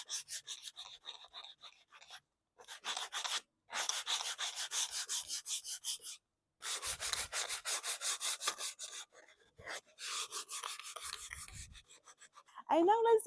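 Sandpaper scrubs old varnish off outdoor wooden furniture in rapid back-and-forth strokes. The rasping comes close up in several long bursts separated by brief pauses.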